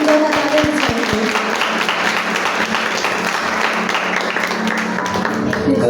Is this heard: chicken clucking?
no